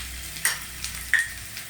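Spice masala fries quietly in a pan while a utensil gives a few light clicks and scrapes as it is stirred.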